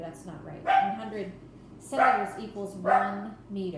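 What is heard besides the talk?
dog barking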